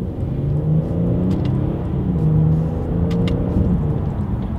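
A 2020 Genesis G90 engine revving through paddle-shifter downshifts, heard from inside the car as a continuous mid-pitched drone that rises and falls in pitch over several seconds, with no talk.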